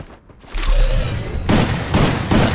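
Bursts of gunfire in a battle royale video game during a grand final night tournament, loud repeated volleys of shots with booming impacts, no talk over them.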